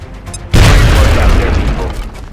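A loud, close grenade blast in XCOM: Enemy Unknown booms out suddenly and rolls on as a heavy rumble for nearly two seconds, following a short quieter stretch with a faint voice.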